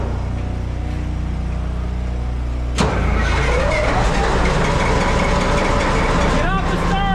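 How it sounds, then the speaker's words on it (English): A rebuilt CAT engine in a mining truck cranks on the starter, catches with a sudden burst and settles into a loud, rough running rumble, with faint voices over the noise. "Get off the starter, it's running."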